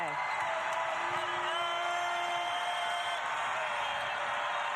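A basketball crowd of over 5,100 at JPJ arena during a women's Virginia vs. Virginia Tech game, a steady roar of cheering and whoops at a distance, with a single sustained tone running through it.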